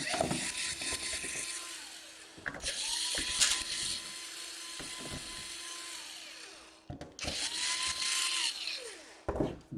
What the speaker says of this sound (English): we unscrew everything on the top